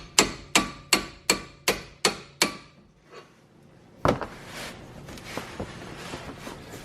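Eight sharp, evenly spaced hammer blows ring out on the front suspension of a BMW E34 540, followed by a pause, one last louder strike and some clattering handling noise.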